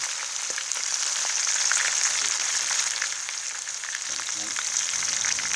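Pickled fish frying in a pan with kaffir lime leaves gives a steady, close sizzle and crackle throughout, with light scraping and stirring underneath and no voices.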